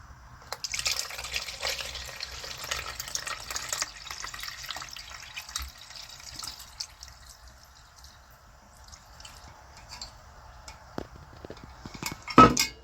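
Water-based mushroom tincture sloshes and swirls inside a container, with faint liquid movement, soft clinks of glass and a few louder knocks near the end, quiet and close.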